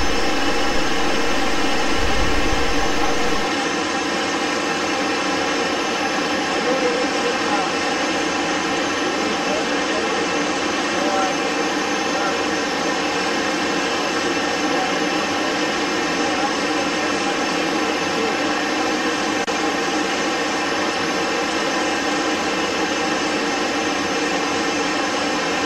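A Fouga 170 jet on a check flight, rolling and turning in the air: a loud, steady broadband engine roar with a constant whine, unchanging for the whole stretch, a brief low thump at the very start.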